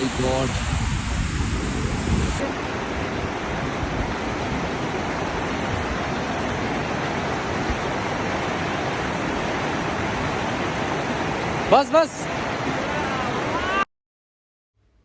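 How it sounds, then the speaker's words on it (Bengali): A high, icy-cold waterfall in Pokhara, Nepal roars up close as a loud, steady rush of falling water that stays constant for about fourteen seconds before cutting off abruptly. "এই যে পানির যে গতি কি পরিমাণ যে গতি"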